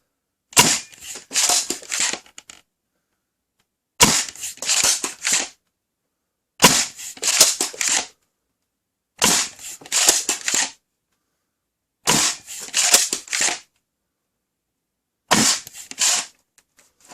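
Six separate volleys from a Worker Swift foam dart blaster fitted with a 280 mm barrel and a 1.2 mm spring, each burst a quick close series of sharp cracking shots, with silence between bursts.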